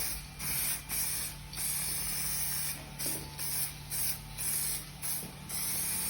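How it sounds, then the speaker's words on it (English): Black aerosol guide coat misted onto a primed Audi S4 bumper: repeated short bursts of spray hiss, about eight separate blasts with brief pauses, close and steady, with no talking. "we're just going to apply a mist coat of aerosol black"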